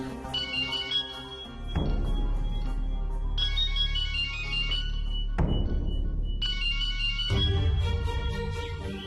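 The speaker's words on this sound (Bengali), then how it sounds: "মিহিরটা ফোন করেছে" A mobile phone ringtone for an incoming call plays a repeating electronic melody, with bright tonal phrases alternating with lower sustained chords, steady and fairly close with no talking.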